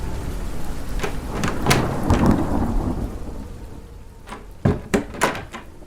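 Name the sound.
thunderstorm with rain, dramatized story sound effect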